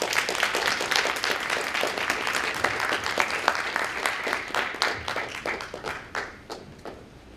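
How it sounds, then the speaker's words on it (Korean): An audience at a Korea University KU-KIST graduate school entrance ceremony claps warmly to welcome a professor to the podium; the full, continuous clapping of many people runs for several seconds, then tapers into scattered claps. "이상엽 교수님을 큰 박수로 맞이해 주시기 바랍니다"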